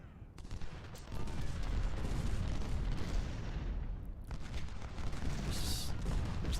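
Cannons and artillery pound away in the Ultimate General: Civil War strategy game on the Malvern Hill battle: a dense, continuous roll of booming gunfire that swells loudly after the first second and keeps going, with a brief dip near the four-second mark.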